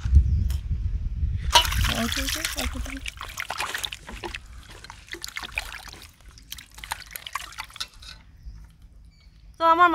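Kalbasu fish rubbed with salt and rinsed under water: a burst of splashing and trickling, then wet sloshing and handling noises that fade and come and go, with faint voice sounds in the background.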